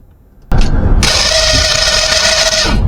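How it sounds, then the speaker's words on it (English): A Lionel toy train whistle motor, unlubricated for a long time, kicks on via a relay with an abrupt loud start and then whirs and drones steadily and harshly at close range, with no talking. "when I activate the relay, just to check to see if the motor is working"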